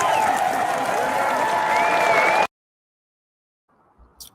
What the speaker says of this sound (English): Clap it up for Dr.